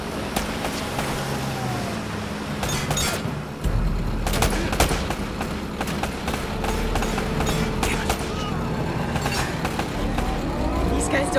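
Rapid bursts of gunfire in an Uncharted video game shootout, sharp shots crackling over a steady rumble of engine noise, with voices talking through the action.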